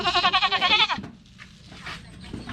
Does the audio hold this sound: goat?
yes